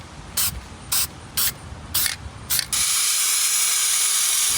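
Spray can laying a second coat of primer on a car rust repair, five short bursts of hiss in a quick rhythm, then one sustained, loud spray close by.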